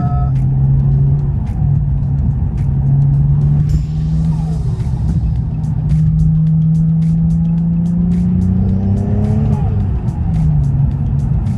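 A steady low engine drone from a 450 hp BMW 335i hums continuously while driving in a high gear at low RPM, with road noise and occasional faint voices over it.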